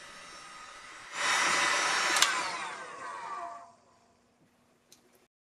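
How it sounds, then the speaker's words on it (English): Handheld heat gun blowing hot air to melt solder and shrink tubing on trailer hitch wiring for a 2004 Honda Pilot, a steady rushing roar lasting about two and a half seconds before cutting off, leaving near silence. "I use a heat gun to melt the solder and shrink the tubing"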